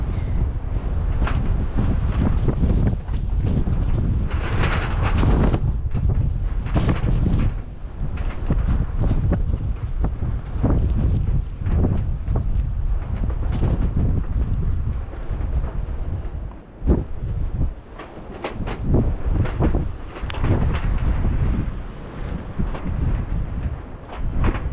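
Strong, gusty wind roars against a canvas tipi tent at an open, sandy, silty campsite, blowing dust around; the buffeting rush is loud and nearly continuous, with brief lulls between gusts.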